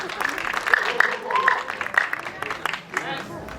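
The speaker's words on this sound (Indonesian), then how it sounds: "Mari kita beri tepuk tangan yang meriah dulu buat produser Ernest Prakasa" Applause at a film press conference for producer Ernest Prakasa, moderate clapping from a small crowd, with chatter, laughter and a short whistle-like tone mixed in.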